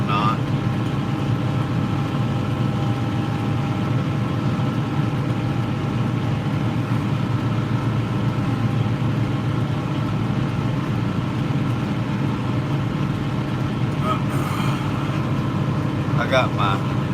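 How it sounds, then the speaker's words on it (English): A steady low tractor engine drone fills the whole stretch, heard from inside the cab, constant and unchanging, with a few faint rattles near the end. "I know I'm in the tractor or whatnot."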